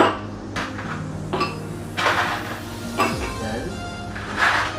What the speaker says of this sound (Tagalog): So ito yung glass ko. So lagyan ko siya ng 3 pieces ng ice.